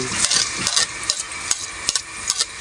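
Chopped garlic sizzles in hot cooking oil in a pan, with a busy, hissing fry broken by sharp scraping and clicking as a utensil stirs it, close and fairly loud.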